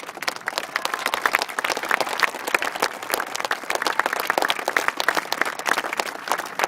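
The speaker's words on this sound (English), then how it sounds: "how about a nice round of applause for the coach?" Dense crowd applause at a Little League opening day fills the whole stretch with steady, loud clapping and no talk over it.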